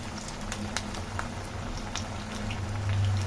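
Onion bonda fries in oil on medium heat, a continuous bubbling sizzle with scattered light pops and patters, fairly close and steady, with a low hum underneath and no talking.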